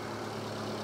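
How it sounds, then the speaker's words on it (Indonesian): A 2008 first-generation Daihatsu Sirion engine idles smoothly and steadily, a low, even hum with no roughness or changes in pitch. "Dan ini suara mesinnya"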